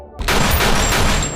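Gunfire in a film firefight inside a government office, a sudden loud burst of rapid shots that opens after a brief quiet and then rolls on densely until the end.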